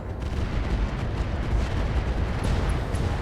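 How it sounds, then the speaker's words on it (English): In the RogueTech mech combat game, an SRM ammunition explosion rumbles through a mech, a continuous loud, dense roar of booming blasts that holds steady for several seconds with no talking. "SRM ammo explosion."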